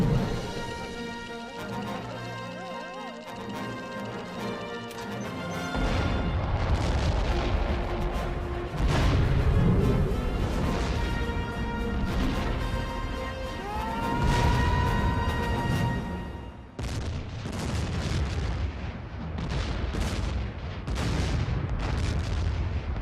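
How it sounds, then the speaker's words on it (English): Bomb blasts in an animated superhero series, heavy booming bursts and rumbling detonations recurring throughout, loud and close, with a swelling tonal score behind them. "well, that should have been a much bigger explosion."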